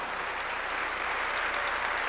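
A church congregation at a Korean worship service breaks into applause, a thick, steady clatter of many hands clapping at once, fairly loud and unbroken for about two seconds.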